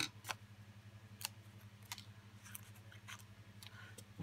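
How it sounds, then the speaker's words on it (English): Scissors snip paper flower pieces in half for a handmade card, a handful of crisp, separate cuts spread across a few seconds over a steady low electrical hum, quiet and close, with no voice. "so let's cut them in half"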